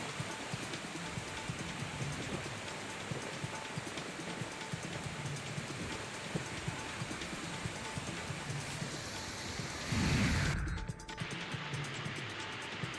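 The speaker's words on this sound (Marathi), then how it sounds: "मुसळधार पाऊस सुरू आहे" Dense, steady hiss of heavy monsoon rain pouring down in Nashik, with a louder gusty burst near the end, no voices.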